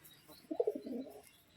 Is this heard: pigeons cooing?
yes